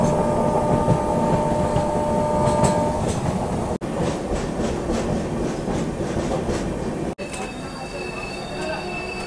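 Silchar-Coimbatore Express train rolling on rails just out of New Bongaigaon Junction, a loud continuous rumble with rhythmic clickety-clack and faint wheel squeal, heard from inside with a couple of abrupt brief dropouts.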